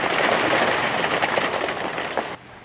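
Rain falls steadily on a garden plot in late July, a dense, even hiss of drops close by that continues without pause and then softens abruptly near the end.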